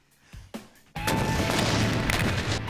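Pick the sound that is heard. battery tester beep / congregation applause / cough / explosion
explosion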